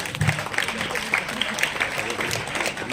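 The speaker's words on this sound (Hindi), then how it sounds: "पटवारी सर के लिए जोरदार तालियां बजाएंगे।" Audience at an ashram ceremony in Udaipur claps to welcome a guest, a dense, fairly loud patter of hands with occasional sharper claps and some voices underneath.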